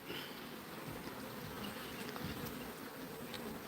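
Honeybees buzz around an open hive with drawn comb, a faint, steady hum of many insects with no voices.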